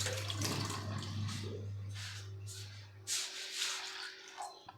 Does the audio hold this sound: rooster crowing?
no